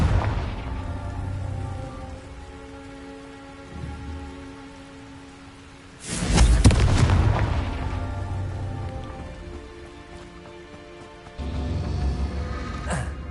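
A Confringo explosion spell in Hogwarts Legacy bursts loudly about midway, a broad blast that rumbles and fades slowly over a steady rain-like game ambience, with a second swell of noise near the end.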